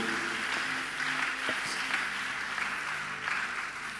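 A church congregation applauds the Lord with steady, moderately distant clapping that blends into a continuous wash of sound, with a few louder claps standing out.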